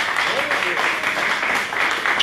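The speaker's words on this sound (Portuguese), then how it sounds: "Vamos aplaudir o Senhor." A church congregation applauding the Lord during a worship service, continuous crowd clapping mixed with voices and cheering, fairly loud and sustained.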